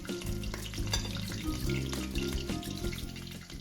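Shrimp and calamari fry in oil, a dense continuous close sizzle with a low rumbling undertone and scattered crackles, steady throughout with no voices.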